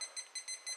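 Kitchen timer beeping while cooking French bouillabaisse soup: four quick bursts of bright electronic beeps repeating at an even rhythm, each with short pauses, fairly faint and heard alone with no talking.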